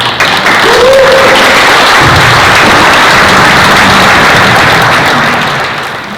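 A crowd at an annual town meeting in Vassalboro breaks into loud, sustained applause for rescue department members, a dense wash of clapping that tapers off at the end, with a few voices underneath.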